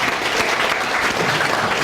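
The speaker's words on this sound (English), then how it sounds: "You can clap that." A startup event audience breaks into loud, dense applause, a brief continuous burst of clapping with no pauses and no talk.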